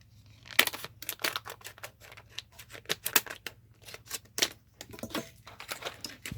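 Scissors snip and crinkle through plastic packaging around a Harbor Freight 6-inch driver bit extension, a quick irregular series of close, sharp cuts and rustles.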